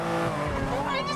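Car in a racing video game colliding with a Waymo, with tires skidding and squealing over a running engine. Excited talk sits over the noise.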